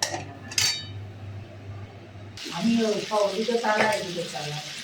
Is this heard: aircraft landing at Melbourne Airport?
no